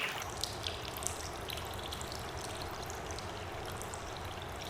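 Snowmelt and thawing ice trickle, drip and splash as water flows in the mountains, a steady close wash with scattered bright droplet splashes throughout.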